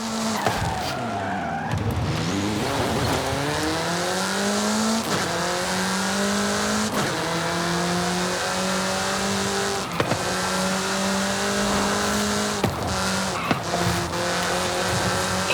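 A car in the Forza Horizon 5 racing game accelerates hard, its loud, close engine note climbing steadily in pitch through gear changes while tires squeal, continuous and without speech.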